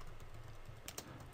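Keystrokes on a computer keyboard while entering Cisco router VPN configuration commands, a quiet run of soft clicks with a couple of sharper taps near the end, no voices.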